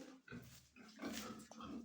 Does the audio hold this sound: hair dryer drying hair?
no